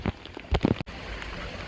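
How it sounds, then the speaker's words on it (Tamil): Heavy rain falls steadily on a rainy day in Kerala, a dense continuous patter with a few louder splashes and thumps up close near the start. "மழை வேறு ரொம்ப வந்துக்கிட்டே இருக்குது."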